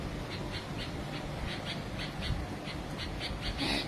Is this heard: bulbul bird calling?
yes